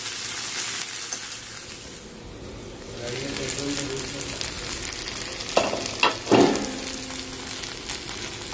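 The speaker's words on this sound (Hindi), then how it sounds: "इसे ढक के पकाना है जब तक ये अच्छे से पक नहीं जाता है।" Aloo bhindi, potato and okra with tomato, cooking in a pan, heard as a continuous close sizzle and frying crackle with a few louder clatters near the end, and no talking.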